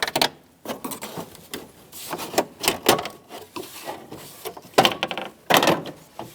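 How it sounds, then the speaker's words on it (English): Plastic trim clips pop loose one after another as defroster trim is pried off a 1997-2006 Jeep Wrangler dashboard with a trim tool, giving a series of sharp, close snaps and plastic creaks at irregular intervals. "You'll hear them pop."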